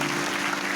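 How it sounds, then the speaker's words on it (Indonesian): Brief burst of dense, steady clapping from a church congregation during an Indonesian sermon, a full room of applause heard on its own. "Kasih tepuk tangan."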